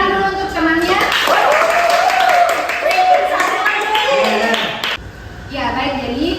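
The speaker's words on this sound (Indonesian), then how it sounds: "berikan tepuk tangan dulu untuk temannya" A classroom gives a short round of applause for a classmate: a burst of many hands clapping together under children's voices, fading into chatter and a voice.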